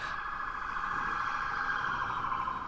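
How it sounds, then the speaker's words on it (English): A siren wails faintly and steadily in the distance, a sustained high tone held throughout the short stretch with low background rumble beneath. "And we just had a siren go by."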